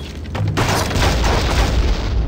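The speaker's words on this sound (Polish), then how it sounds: "Dwie wybuchające pułapki obok siebie." Two exploding traps go off next to each other in a dwarven mine in the video game Dungeon Siege, giving loud, deep rumbling booms that roll on heavily for a couple of seconds, with no talking.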